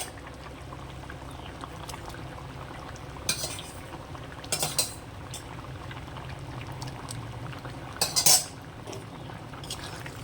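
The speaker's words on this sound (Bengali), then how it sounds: "তো এই পর্যায়ে দিয়ে দেবো আমি মাছ ভাজা।" Fried fish added to a simmering dal and potato curry in a pot and stirred, giving a soft bubbling, wet background broken by a few sharp metal clinks of a spoon against the pot, close and unhurried.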